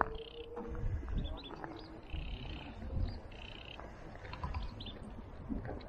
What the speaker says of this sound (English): Sounds like chicks. Have you got chicks with him?